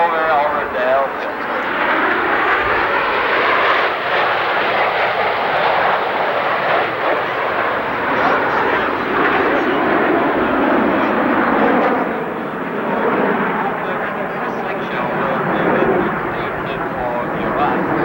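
Italian Air Force Frecce Tricolori jets performing at the 1992 Westover Airshow, a loud, continuous broadband jet roar lasting throughout, with a voice talking over it.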